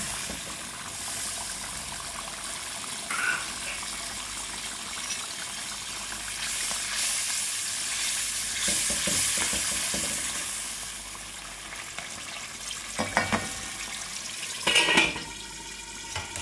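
Chicken pieces frying with softened tomatoes in a karahi, giving a steady close sizzle with occasional stirring clatters and louder bursts toward the end, and no talking.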